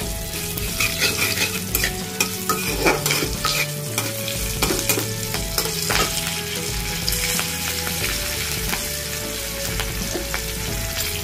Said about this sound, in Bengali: আর 4-5টা কাঁচা লঙ্কা দিয়ে দেবো।